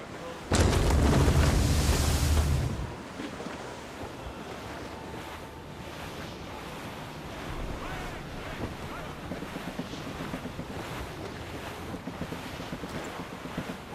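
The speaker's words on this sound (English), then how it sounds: "Wind's getting vicious." Howling wind at sea in Assassin's Creed Rogue, opening with a loud gusting blast that eases into a steady, rushing roar of wind and surf around the ship, with faint game sounds under it.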